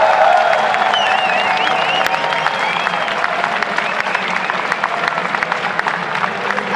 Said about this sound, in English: A well-deserved applause here for you guys.